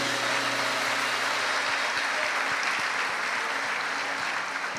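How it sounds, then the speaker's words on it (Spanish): Congregation at a church service applauds steadily and loudly, a dense, even wash of many hands clapping with no break, offered as praise to God at the first service of 2025. "Démosle fuerte esa ofrenda de palmas a nuestro Dios"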